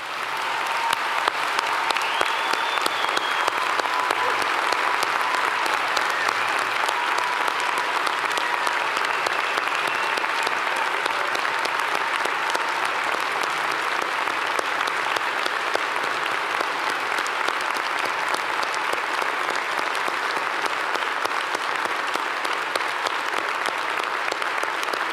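A large graduation ceremony audience at a university convocation applauds the standing graduates, dense sustained clapping from many hands that stays loud and even for about twenty-five seconds.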